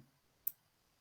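A single crisp computer mouse click sounds once, sharp and isolated against near silence in a quiet room.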